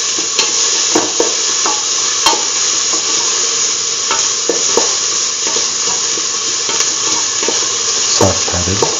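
Salted onion pieces sauteing in a pan, a steady loud sizzle with repeated stirring scrapes throughout.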